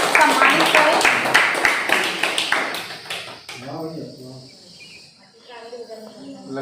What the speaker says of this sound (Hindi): समूह की सभी दीदियां जोरदार ताली के साथ लक्ष्मी जी के इस अभिवादन को सम्मानित करें।